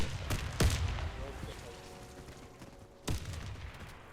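Two sharp, loud gunshots ring out about two and a half seconds apart in the online shooter game Warface, each trailing into a short echo over a low background hum.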